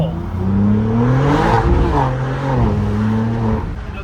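A throaty BMW G8x M3/M4 exhaust with a valved axleback on OEM downpipes revs up and eases off, its deep, raspy roar rising and falling in pitch close by.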